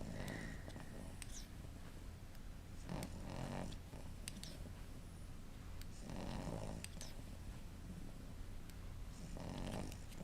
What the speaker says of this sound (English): in my lap snoring